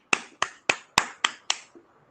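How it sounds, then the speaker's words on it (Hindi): A few hands clapping after a candidate's success story about the SAS exam: six sharp, evenly spaced claps, then a faint seventh, quiet and close against near silence. "एक बार जोरदार ताली बजाइए।"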